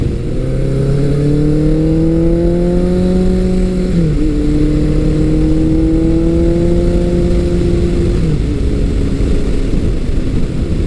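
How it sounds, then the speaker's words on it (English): Exhaust of a vintage Suzuki GS1100 motorcycle revving in long rising pulls, with two brief drops in pitch at gear changes, loud and close, no talking. "Love the sound of the exhaust."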